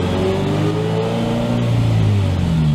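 Sprintex-supercharged 2022+ car on a test drive, engine droning and rising steadily under acceleration, moderately loud from inside the car with no talk.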